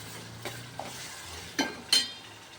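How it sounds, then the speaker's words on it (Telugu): Onions fry in a pan for a fish curry, a soft steady sizzle with occasional clinks and scrapes from stirring, the two louder ones near the end. "ఇదిగో చూడండి ఉల్లిపాయలు చక్కగా ఎగుతున్నాయి కదా"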